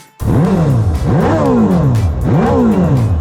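A Suzuki GSX-S1000 GX superbike's 1-litre inline-four engine revs hard three times in quick succession, each rise climbing toward a high-pitched scream before dropping back, loud and close with no talk.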